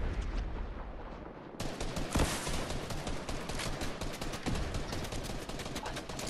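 Fortnite gunfire crackles in dense, rapid bursts throughout, with a louder cluster of shots partway through, loud and continuous over the game's background.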